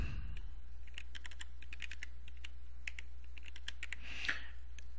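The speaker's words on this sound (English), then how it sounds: "Now, type www.google.com." Rapid bursts of keystrokes on a computer keyboard as a web address is typed, close and crisp with short pauses between clusters of clicks, no voices.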